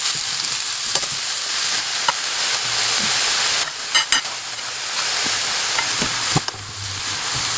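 Spinach sizzling in a pan as it is stirred, a continuous hiss with a few clinking utensil scrapes and taps scattered over the frying noise.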